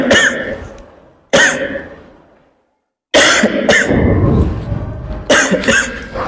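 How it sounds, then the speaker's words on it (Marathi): Harsh coughing in a nursing-college tuberculosis skit, several loud close bursts, some paired or clustered, with short gaps and fading tails between them. "तुमच्या मुलाला खोकला आहे"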